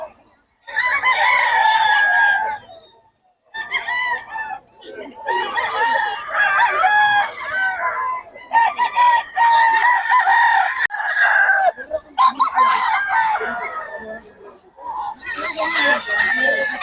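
Several roosters crow in turn, loud and close, one long cock-a-doodle-doo after another with brief gaps between them.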